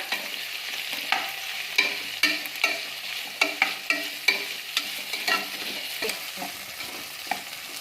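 Vegetables for veg pulao frying in oil inside a pressure cooker, with a steady sizzle broken by repeated close scrapes and knocks of a spoon stirring against the metal.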